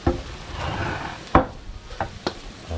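Fried fish is stirred in a pan: a few sharp scraping knocks and clinks stand out over a soft background sizzle, close and fairly loud.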